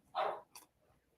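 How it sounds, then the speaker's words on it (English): A dog gives one strong bark followed by a shorter, fainter yip, close by in a quiet indoor room, with no other sound around. "And there goes Mr. Brando barking"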